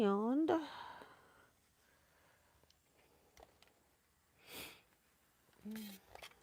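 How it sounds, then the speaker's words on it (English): A few sharp sniffles come at scattered moments, separated by quiet stretches and a soft sigh, close to the microphone. "now I'm getting the sniffles"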